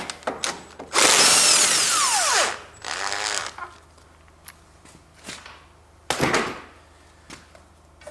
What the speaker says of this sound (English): 10mm bolts, and I use my electric driver. First bolt, and then second